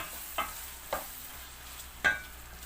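Potatoes and peas fry quietly in a pan on a wood-burning cookstove, a low sizzle under three distinct scraping stirs spaced apart, close and fairly faint, with no talking.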